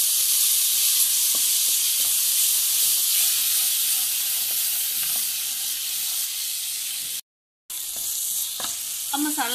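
Steady, loud sizzling of masala frying in hot oil in a pan for turnip bhartha, with occasional scraping taps of a spoon stirring the pan, and no talk.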